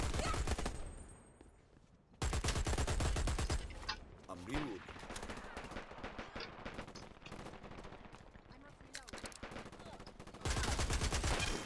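Gunfire rattles through a round of the online shooter game Dirty Bomb: loud bursts of automatic weapons come in rapid volleys, with heavy fire at the start and end and scattered shots in between.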